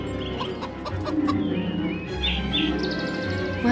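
A chicken clucks repeatedly in the Lost Lands 10 video game, close and clear over a bed of ambient background sound.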